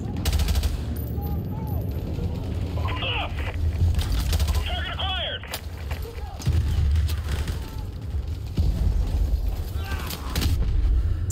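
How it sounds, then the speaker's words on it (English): Combat in Call of Duty: Modern Warfare, with heavy blasts and rumbling explosions amid sustained machine-gun and rifle fire, a vehicle blowing up in the thick of it, while someone talks over the din. "Exploding vehicle."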